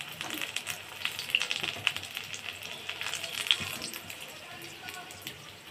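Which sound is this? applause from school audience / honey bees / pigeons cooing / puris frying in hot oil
puris frying in hot oil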